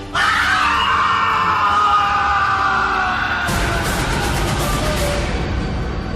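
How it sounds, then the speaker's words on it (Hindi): Horror story sound effect of a loud, drawn-out pained scream echoing through a forest, sustained and intense for several seconds before breaking into a harsher, noisier cry. "रजत के गले से एक भयानक दर्द भरी तेज चीख पूरे जंगल में गूंजी"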